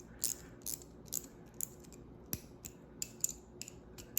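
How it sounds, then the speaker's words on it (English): Leatherman Wave multitool bit driver used as a ratchet, giving a string of light, crisp clicks in an irregular rhythm, close and quiet with no one speaking. "So this you can put it as a ratchet if you want to."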